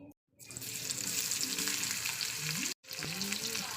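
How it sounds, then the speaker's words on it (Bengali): Raw onion sizzles as it hits hot oil in a pan, a loud continuous frying hiss that drops out briefly twice and then resumes. "তেলটা আমার গরম হয়ে গেছে প্রথমে পেঁয়াজটা দিয়ে ভাজা করে নিই"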